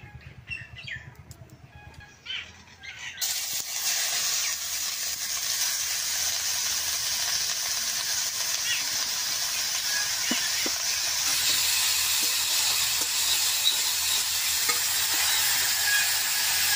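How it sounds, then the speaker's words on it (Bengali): Ghee sizzling in a hot kadai, a steady close hiss that starts abruptly after a few quiet seconds of faint background sound and continues evenly to the end, with occasional faint clicks. "কড়াইটা গরম হয়েছে, আমি এখন ঘিটা দিয়ে দিব।"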